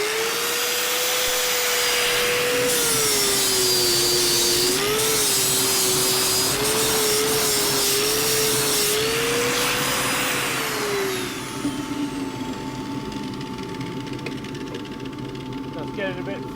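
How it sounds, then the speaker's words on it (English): A big power sander flattens a ripple ash crossgrain box held on a lathe, a loud, steady whining drone with a wavering pitch that runs for about eleven seconds, then drops to a quieter hum with faint background noise. "I'm just going to sand that off with these the big sander here"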